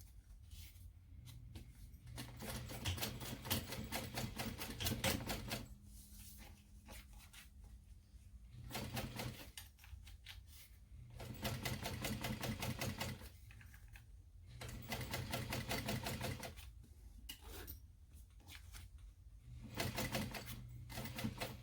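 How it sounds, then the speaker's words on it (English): Sewing machine running in bursts while top stitching the seams of a small mini backpack, several runs of steady rapid stitching separated by short pauses, close and clear with no talking. "I'm going to top stitch at 1/8 inch seam allowance."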